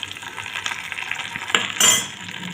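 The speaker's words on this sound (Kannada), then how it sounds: "ಒಗ್ಗರಣೆ ಹಾಕ್ಕೊಂಬಿಡೋಣ್ರಿ." Tempering for sabudana vada chutney goes into a hot pan, with a low frying hiss, a few utensil clinks and a louder sizzling burst near the end.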